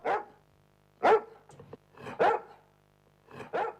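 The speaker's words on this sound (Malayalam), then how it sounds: "ഈ പട്ടി എന്നാ കൊരയാ" A dog barks four times at a comedy skit, sharp close barks spaced about a second apart with short quiet gaps between them.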